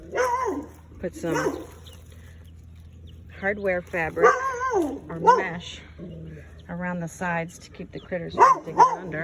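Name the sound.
neighbor's dog barking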